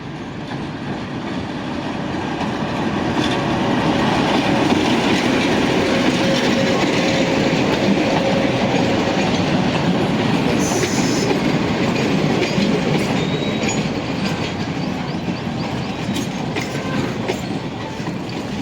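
A metre gauge train from Dhari to Junagadh pulls in, with a loud, continuous rumble and wheel clatter that swells, holds steady and then eases slightly as it arrives.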